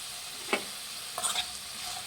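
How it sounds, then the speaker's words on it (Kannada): Capsicum fries with salt in a pan for capsicum chitranna, a faint soft sizzle broken by a couple of quick stirring scrapes. "ಫ್ರೆಂಡ್ಸ್ ಇದನ್ನು ಸ್ವಲ್ಪ ಮೆತ್ತಗಾಗಂಗೆ ಫ್ರೈ ಮಾಡಬೇಕು"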